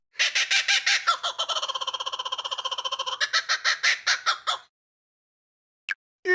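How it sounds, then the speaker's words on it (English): A laughing kookaburra calls loud and close, with rapid repeated cackling notes rolling into a fast chuckling run, then a few spaced hoots before a short silence and one last brief note. "laughing kookaburra,"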